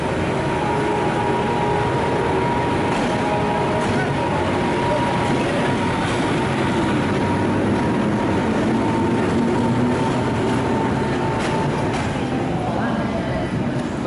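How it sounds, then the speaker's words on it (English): Shunting locomotive 460-003 idling and moving at Budapest Keleti station, a loud continuous rumbling drone with steady engine hum and faint metallic clanks, persisting evenly throughout with station ambience. "Shunting loco 460-003."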